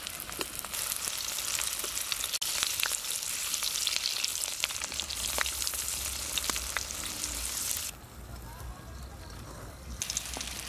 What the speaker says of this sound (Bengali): শিম ডিমের মধ্যে মাখিয়ে নিয়ে তেলে ভেজে নেব।